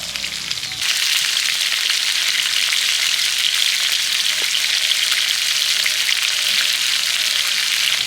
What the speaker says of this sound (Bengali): মাছ ভাজা হতে হতে